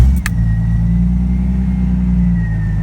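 A Jeep Cherokee engine turns over and settles into a steady, loud idle close by, with a brief burst at the very start as it catches, then a continuous low rumble with no talking.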